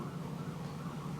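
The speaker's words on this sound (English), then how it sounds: "hear the sirens going by" Emergency vehicle sirens pass by outside, a steady wailing tone heard from some distance through a room, alone without talk.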